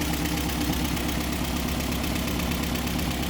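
A 1960 Nash Metropolitan's 1.5-liter inline four-cylinder engine idling, a steady, even mechanical hum with a faint rhythmic pulse, close up and continuous with no talking.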